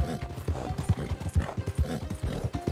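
Horse hooves clip-clopping in the video game Red Dead Online, a fast, steady trot of a starter horse, close and fairly loud over a low background hum, with no talk.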